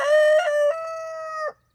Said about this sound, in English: The hen's coming over for a drink too.